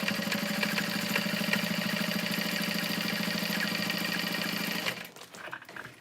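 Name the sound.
sewing machine top stitching a leather bag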